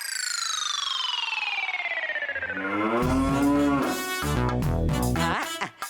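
A cartoon buffalo lets out a long, loud moo that slides steadily downward in pitch, then gives way to a busy burst of cartoon music and effects.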